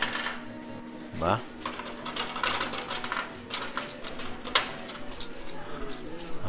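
Coins clinking into a coin pusher arcade machine, a bright metallic rolling and rattling close by, followed by scattered taps and clicks, with a brief voice.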